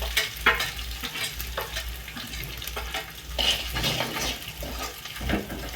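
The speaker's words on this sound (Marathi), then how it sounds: "लसण जिरं झाल्यावर 1 मिनिट फ्राय करायचं" Garlic and cumin frying in hot oil for a dal tadka, a steady close sizzle with scraping stirs and light clinks of a utensil against the pan throughout, no talking.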